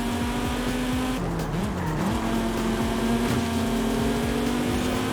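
An Audi Quattro racing in Forza Horizon 5, its engine droning loud and steady with a brief dip and shift, tires scrubbing as it pushes past a rival truck.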